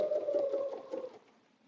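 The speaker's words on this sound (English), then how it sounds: "This white fabric is challenging to stitch on." A sewing machine quilting stitches on white fabric for a butterfly bed runner, its steady motor whine running for about a second before cutting off into quiet.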